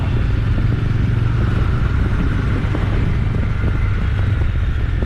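A Bajaj Dominar 400 motorcycle engine, freshly serviced, idles steadily up close with a low, even rumble and light mechanical clatter throughout, with no one talking.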